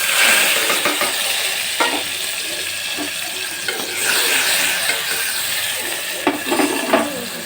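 Onion and cumin seeds fry in hot oil in a pan for an eggplant curry, a steady close sizzle with occasional stirring scrapes and soft clinks of a utensil against the pan.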